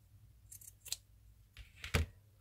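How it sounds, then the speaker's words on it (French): Scissors snip a small piece of lace, a few soft, close cuts spread over a couple of seconds in a quiet room, the last one the sharpest. "Voilà, je vais venir découper."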